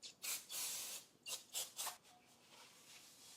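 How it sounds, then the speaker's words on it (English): Brake cleaner hisses from an aerosol can onto the rear brake rotor of an Audi Q3: one long spray, then three short, close bursts, with nobody speaking. "I'm going to go ahead and spray the rotor one more time now that it's on with brake clean."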